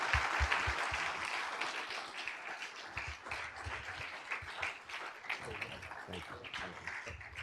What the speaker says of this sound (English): Let's give Royce another round of applause.